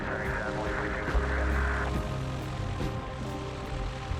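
Propeller engine of a 65-year-old Cessna airplane running before takeoff, a loud close throbbing drone with rhythmic pulsing that swells briefly and then settles, and no speech.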